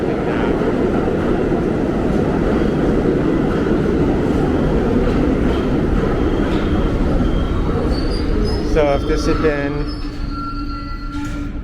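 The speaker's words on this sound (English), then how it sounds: "There's a northbound number 1 train arriving now." A northbound New York subway number 1 train arrives at 145th Street station on Broadway with a loud, steady rumble and wheel squeal near the end, while someone talks over the noise.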